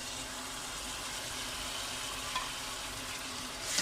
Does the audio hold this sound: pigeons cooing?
no